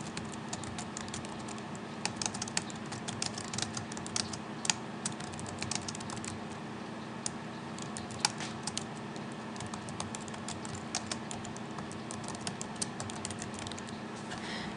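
Steady typing on a computer keyboard as a title is entered, quiet irregular key clicks pattering continuously over a faint room hum.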